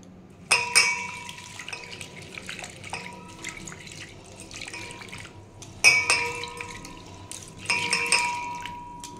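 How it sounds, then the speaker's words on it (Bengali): Flattened rice (chira) is washed by hand in water, with several bursts of splashing and sloshing separated by quieter pauses and small drips and clinks of a bowl, close and fairly soft, with no talking. "চিড়েটাকে আমি ভালো করে ধুবো, 4বার করে ধোবো ভালো করে"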